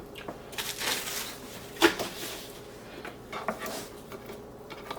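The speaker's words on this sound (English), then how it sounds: "we're going to cut our spare ribs. And these are just pork side spare ribs" Pork side spare ribs with the breast removed being cut in a kitchen, faint knife scrapes and light clacks against a board, with one sharper knock partway through.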